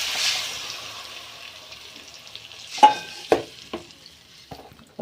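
A ground coconut and tomato mixture goes into a pan of Tamil fish curry, with a soft simmering hiss and a few sharp clacks and scrapes of a spoon against the pan.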